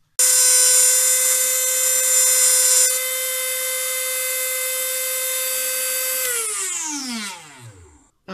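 A Dremel rotary tool sharpens a circular saw blade, router cutter or drill bit, holding a loud, steady high whine for about six seconds that then winds down in falling pitch as the tool spins to a stop.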